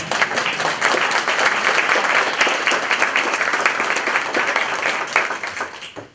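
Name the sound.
audience applause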